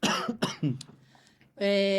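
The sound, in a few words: cough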